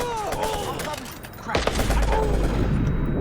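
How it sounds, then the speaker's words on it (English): Bursts of AK-47 rifle fire ring out in the video game Watch Dogs, a rapid crackling volley that kicks in partway through and continues loudly, with game sound effects beforehand. "Then switch to the AK-47, shoot the rest of these guys on the balcony."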